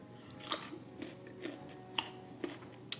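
Crunchy vegetable spring roll filled with carrot, with hoisin and sriracha sauce, bitten and chewed up close, giving a series of sharp crisp crunches about every half second over quiet background.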